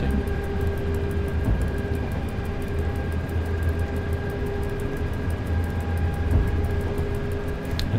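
An EC passenger train in the SimRail simulator running from Psary toward Zawiercie gives off a steady low rumble and a constant electric whine as it slowly picks up speed, with faint regular ticks over the top.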